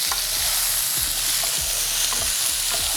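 Chopped tomatoes and cumin sizzle steadily in a pan for a chicken gravy, with a dense, even frying hiss and several soft scraping stirs spaced through the three seconds; no voices.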